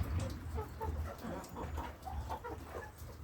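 Trabzon Guguli hens cluck softly in a yard, a scattered run of short, quiet calls over low background rumble.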